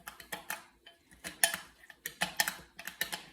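Utensil stirring and spreading a mixture containing Worcestershire sauce, heard as quick, uneven clinks and scrapes against a dish in a close, quiet kitchen.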